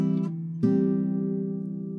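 A single measure of classical guitar from a Julio Sagreras beginner lesson: two quick plucked notes, then a held bass chord ringing out and slowly decaying, clear and close, with no voice.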